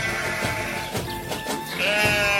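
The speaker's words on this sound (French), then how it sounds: "Le mouton est un animal domestique herbivore qui fait partie de la famille des mammifères" Sheep bleat on a farm, several wavering calls overlapping close by, with one higher, drawn-out bleat rising near the end over a steady background.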